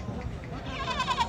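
A goat bleats at a livestock market in Dina, one short, close, wavering cry over background crowd noise.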